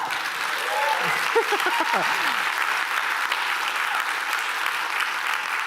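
An audience at an evening of storytelling and original music applauds steadily throughout, a dense wash of clapping with a brief vocal cheer rising through it early on.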